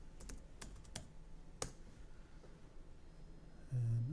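Someone types a search on a computer keyboard, a quick burst of sharp key clicks followed by a few isolated taps, then a low hum comes in at the end; no one speaks.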